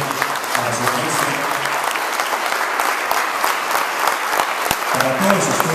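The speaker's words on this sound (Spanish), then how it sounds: "Fuerte el aplauso para ellos, ¿verdad?" A crowd at a tango event in Tijuana applauds loudly and continuously, a thick, even roar of many hands clapping together, with some voices blended in.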